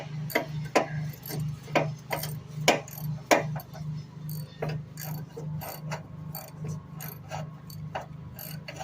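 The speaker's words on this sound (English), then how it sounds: "I got my socket in there. I think it's a 5/16 socket I'm using." A 5/16 socket wrench ratchets on a bolt of a 2009 Ford Focus SE water outlet housing, giving close, loud bursts of rapid metallic clicks in uneven strokes over a steady low hum.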